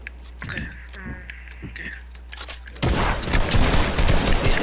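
Gunfire in the video game Fortnite: a player talks briefly, then a loud burst of rapid continuous shots fills the last two seconds.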